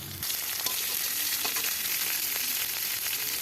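Garlic, dried and green chillies and five-spice seeds with a bay leaf fry in hot oil in a pan, giving a steady, close, crackling sizzle with occasional sharper pops.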